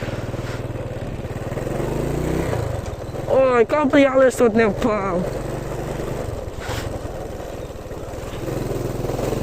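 A motorcycle engine hums and revs steadily while riding along a road, with someone speaking over it partway through.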